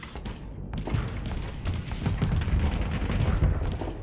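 Space combat video game battle with torpedo hits and weapon fire, a dense, continuous barrage of booming impacts and rapid shots at steady loudness for several seconds, with no talking.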